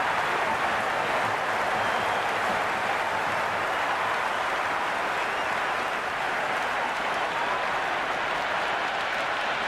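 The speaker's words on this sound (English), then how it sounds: "There's a buzz, a real buzz coming from the stands." A packed stadium crowd at a T20 World Cup cricket match, India against West Indies, produces a steady, dense roar of applause and cheering that holds unbroken throughout.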